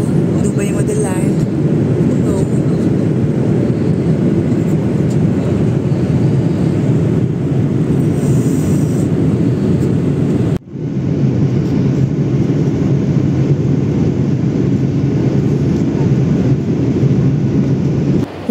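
Dense, continuous low roar of airplane cabin noise during the landing approach into Dubai, loud and unbroken apart from a brief dip, with talk faint over it.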